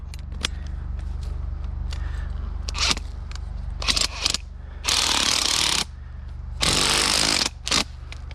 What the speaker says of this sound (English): Go ahead and drill our bait hole.